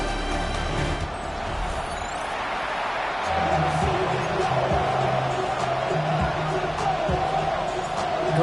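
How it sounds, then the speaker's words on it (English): A large stadium crowd at an NFL game in Cincinnati, Cincinnati against Chicago, makes a continuous loud, dense roar before kickoff, while a commentator talks over it. "His guys with the crowd at their backs, and things only going to get louder once this game begins"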